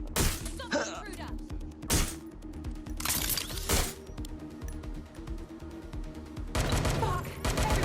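Gunfire in the video game Watch Dogs: Legion, heard as loud bursts of shots with sharp cracks and thuds that repeat through the clip over steady game ambience and no speech.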